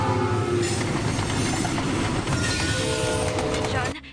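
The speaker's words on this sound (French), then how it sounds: "2 trains de marchandises sont sur le point d'entrer en collision" Freight trains rumbling and clattering loudly on rails close by, a continuous heavy roar with metallic squeals, cutting off abruptly at the end.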